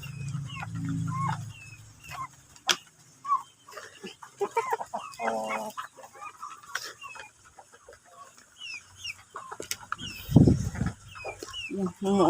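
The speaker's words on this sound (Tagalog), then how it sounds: "Ayan, dambuhalang mga manok, no?" Large, very hungry backyard chickens clucking and squawking nearby in short irregular bursts, with a rooster-like call and a person speaking intermittently among the birds.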